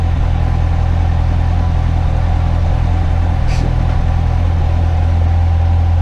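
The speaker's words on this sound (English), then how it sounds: "they say it's a high pressure fuel pump trying to get fuel up to the engine, to the injectors" A Corvette engine idles with a steady, loud low rumble and a constant mechanical hum, attributed to the high pressure fuel pump feeding the injectors, unchanging throughout with one faint brief chirp midway.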